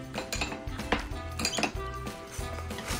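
Dishes and utensils clink and clatter in a few quick, irregular knocks while rice is scooped at a home meal of pork belly and lettuce wraps. The sound is close, with no talking.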